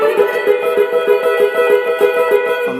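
An electric guitar note slid into and then tremolo-picked rapidly, giving a fast, even, shimmering stream of repeated picks.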